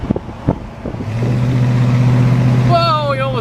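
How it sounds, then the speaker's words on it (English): A 1972 Oldsmobile Cutlass Supreme V8 with dual exhaust and radial tires starts with a few thumps, then holds a loud, close, steady exhaust rumble. Near the end, a higher rising engine tone comes in as it accelerates. "Dual exhaust."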